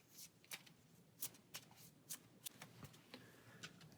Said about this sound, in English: so we'll shuffle this into our deck.